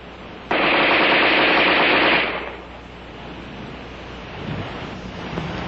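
An Armalite AR-10 rifle fires a single loud, sustained automatic burst of about a second and a half during a sand test, followed by quieter rustling ambience.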